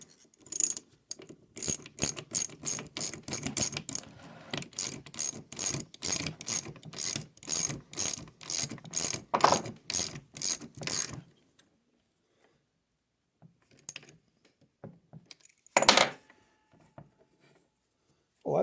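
A Chinese X-Y table mechanism being hand-cranked, giving a long run of rapid, evenly spaced ratcheting clicks up close that stop abruptly, followed by a few scattered mechanical knocks in near silence.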